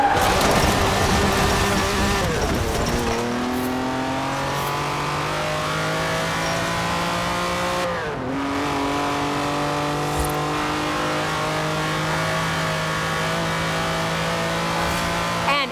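Lamborghini Countach engine in the Forza Horizon racing game, a loud continuous rev that climbs steadily through the gears, with one brief dip and gear change near the middle, running alone with no voices.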